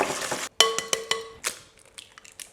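A whisk clinks against a bowl as butter, sugar and eggs are mixed, with sharp ringing taps and scraping strokes up close, fading into quieter, irregular stirring.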